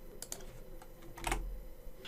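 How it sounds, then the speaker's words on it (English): Keys on a computer keyboard clack as someone types a message subject and body, a handful of close, quick taps in an uneven rhythm with one stronger press near the middle. "Here you can start typing the subject and the main body of the message."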